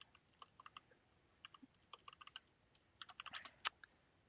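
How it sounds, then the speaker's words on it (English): Keys clack on a computer keyboard as a git commit command is typed: quiet, irregular single taps that quicken into a short flurry near the end, with no voices. "I'm just so used to typing git commit -m"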